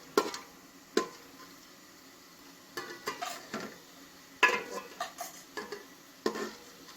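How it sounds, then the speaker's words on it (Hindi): Whole spices such as black cardamom, cinnamon, black pepper and cloves frying in ghee, heard as sparse clicks and light scraping taps of a spoon stirring in a pan, with quiet gaps between short bursts. "इनको थोड़ा सा फ्राई कर लेंगे"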